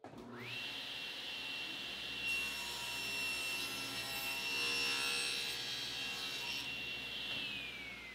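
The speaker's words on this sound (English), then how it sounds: "I'll make this rip on the table saw" Table saw ripping a wooden strip to width for moulding, fence set at 5/8 inch: a steady loud whine with a rising cut tone that holds for several seconds before the blade runs back down.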